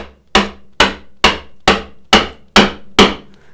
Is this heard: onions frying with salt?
no